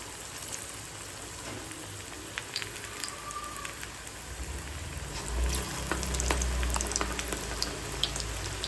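Batter frying in oil in a small pan on a medium flame, a steady crackling sizzle that swells louder partway through, with faint stirring and no talk.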